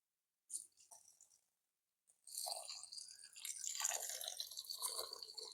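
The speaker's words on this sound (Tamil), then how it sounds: "தண்ணி வந்து நல்லா வடிச்சுக்கலாம்." Water draining off soaked rice being prepared for chicken biryani, starting with a few faint drips, then a steady, close pouring and trickling that rises and continues to the end.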